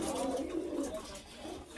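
Pigeons coo at a pigeon shop in a market, soft throaty rolling calls close by and overlapping, with faint background bustle.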